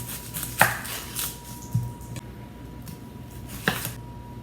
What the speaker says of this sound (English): the recipe calls for 1 medium red onion cut into thin wedges